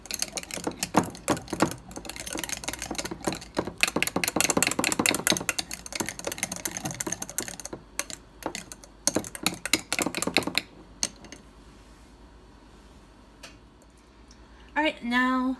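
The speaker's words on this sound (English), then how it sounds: "you just whisk it until it's smooth" Almond flour chaffle batter being whisked by hand in a bowl, a fast run of close, crisp clicking taps for about ten seconds before it drops off to near quiet.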